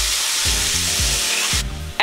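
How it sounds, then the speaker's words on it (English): Diced white onion hits hot oil in a pan and sizzles loudly and close, with bursts of stirring scrapes over the steady hiss. "We're gonna drop in 1 cup of diced white onion."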